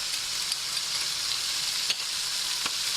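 Garlic frying in hot oil gives a steady, dense sizzle with a couple of brief clicks of stirring; close and continuous, no talking.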